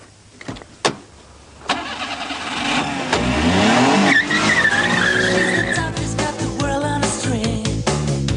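A kei car revs and accelerates hard with tires skidding and squealing. Loud engine roar rises and sweeps upward after a few brief knocks at the start, close by with no talk.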